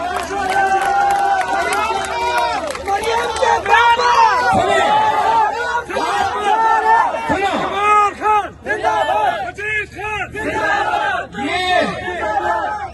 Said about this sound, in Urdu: یہ نعرے بچا کے رکھو